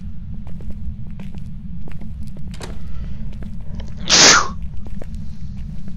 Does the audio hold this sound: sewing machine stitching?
no